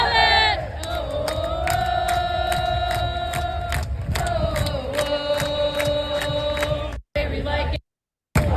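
Soccer fans chant in unison at an FC Cincinnati match, a loud, sustained sung chorus from a big crowd with rhythmic accents, briefly cutting out near the end.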